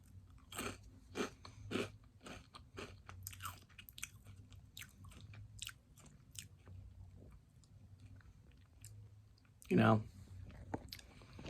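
Close, crisp crunching as crunchy Flamin' Hot Cheetos are bitten and chewed, in quiet bursts with pauses, and one louder crunch near the end.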